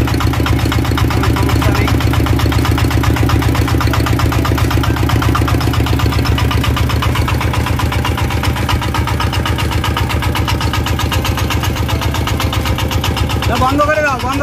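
An R180 single-cylinder diesel engine after a head gasket replacement, running at a steady, loud, rhythmic idle throughout, with someone talking briefly over it.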